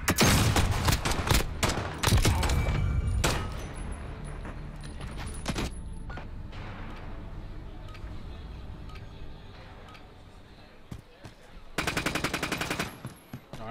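Submachine gun fire in a Call of Duty 2v2 Gunfight match: dense rapid bursts open the clip, sparser shots and clatter follow through the middle, and another fast burst comes near the end.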